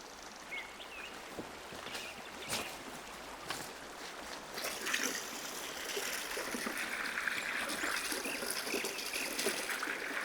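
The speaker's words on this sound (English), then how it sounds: "Now I hear water's flowing this way." A forest stream flows and trickles in a steady faint wash that grows a little fuller halfway through, with a few soft clicks and bird notes.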